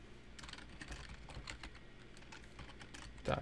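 Typing on a computer keyboard, entering a command into a Minecraft Bukkit server console: steady, close clicking keystrokes that run in bursts throughout, ending in a slightly louder press.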